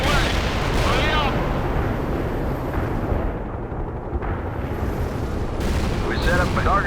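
Artillery strike explosions in World in Conflict, heavy continuous booms and rumbling blasts with gunfire crackle, loud and dense throughout, with radio-style voices briefly heard.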